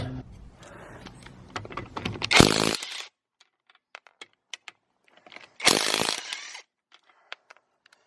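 An Altocraft 20V cordless impact wrench rattles in two loud bursts of hammering impacts, each about a second long, with small clicks and handling noises between them and some low sounds at the start.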